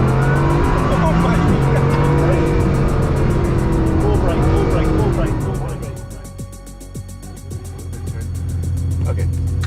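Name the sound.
fast sports car driving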